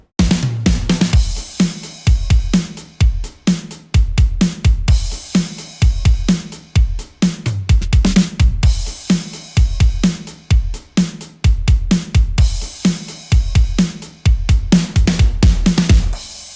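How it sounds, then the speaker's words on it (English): Acoustic drums drive a progressive house track with steady, punchy kick and snare hits over a full, bright mix, looping in a regular pattern throughout at a loud, close level. "Then I have a little interesting part with the acoustic drums"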